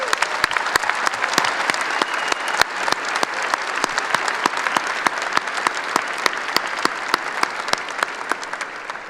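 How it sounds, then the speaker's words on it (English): Applause for graduates at a 2022 summer/fall commencement ceremony in an arena, dense sustained clapping from a large crowd with sharp individual claps standing out close by, loud and continuous throughout. "Please join me for a huge applause for all of them."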